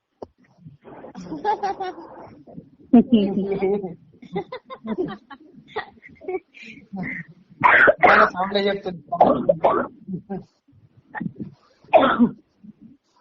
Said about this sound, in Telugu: దగ్గుడు తమ్ముడు